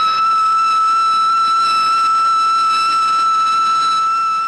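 A train whistle sounds on railway tracks in a Satyajit Ray film, a loud, steady, unbroken tonal blast held for several seconds without pause.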